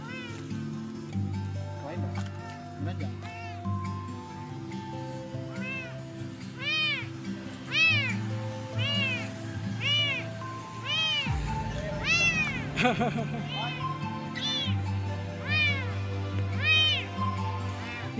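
Several hungry, abandoned kittens meow repeatedly in high, insistent cries close by, over a steady low hum, with a person speaking at times among the calls.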